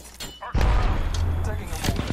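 A burst of heavy gunfire from the Apex Legends video game rolls into a dense, booming rumble after a brief quieter lead-in, loud and sustained to the end.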